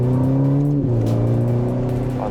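A Ferrari Portofino M in sport mode accelerates hard on a wet road, its engine note loud and close, rising steadily with a quick dip at a gear change before climbing again.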